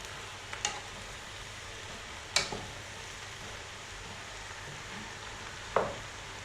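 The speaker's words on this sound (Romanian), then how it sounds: "Amestecăm și le lăsăm 5 minute să mai scadă din volum, amestecând din când în când." Mushrooms being stirred as they sauté in a pot for cream of mushroom soup, three sharp scraping clinks of the utensil spaced apart over a faint steady sizzle.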